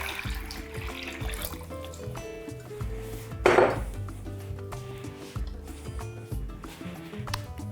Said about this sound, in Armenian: սիրելի ամանի մեջ լցնում ենք սառը ջուր